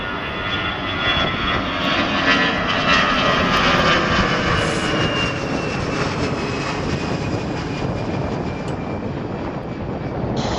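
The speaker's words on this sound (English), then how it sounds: "For those who weren't able to tell what aircraft it was a Delta A319." Delta Airbus A319 jet departing at night from Portland, its engines giving a loud, sustained roar with a rising whine, close and steady throughout with no talk.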